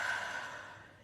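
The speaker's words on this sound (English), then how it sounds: "Breathing in and out." A single slow, breathy exhale during a guided morning breathing session, soft and airy, tapering off gently over about a second with no talking.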